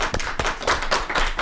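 Studio audience applause on a Kyrgyz talk show, a short burst of dense, steady clapping heard up close with no one speaking.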